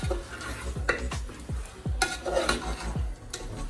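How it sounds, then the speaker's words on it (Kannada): Half a kilo of washed wheat semolina (rava) frying in a pan, a spatula scraping in quick repeated strokes with clinks against the metal over a low sizzle. "ಗೋಧಿ ರವೆ ಚೆನ್ನಾಗಿ ಫ್ರೈ ಮಾಡ್ಕೊಳ್ಳೋಣ"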